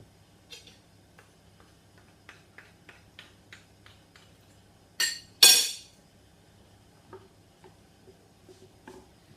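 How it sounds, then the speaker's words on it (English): A spoon stirs a baked marmalade rice pudding mixture made with almond milk, giving a steady run of light ticks and clinks against a dish, with a couple of louder scrapes midway. "We'll give that another good stir in."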